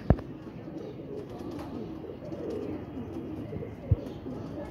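Pigeons, including a flown hen, coo softly in a loft amid steady low bird murmuring, with two sharp knocks near the start and end; no talking.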